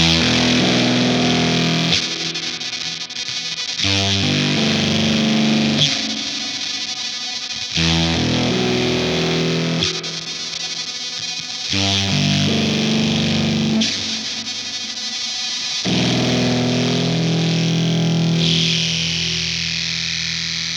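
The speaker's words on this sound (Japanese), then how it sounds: "正直ファズとしての音で言えば普通のファズファクトリーの方がぶっとくて好きなんですけど、このジリジリとしたノイズみたいな感じ" Guitar played through a Bliss Factory fuzz pedal gives a loud, buzzy, sizzling distorted tone, with chords repeatedly cut off and restarted in short bursts of a few seconds.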